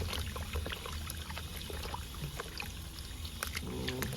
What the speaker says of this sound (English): And just wash my beef.